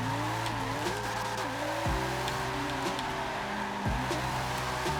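A high-horsepower RB26-swapped 240SX Rocket Bunny drift car in a racing video game drifts with a continuous loud engine drone and tire squeal, dropping in pitch at gear shifts, with no speech.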